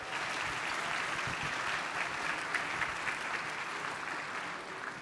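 Steady, dense applause from an audience thanking sponsors at a 50th anniversary celebration event, filling the whole stretch at an even level with no clear breaks.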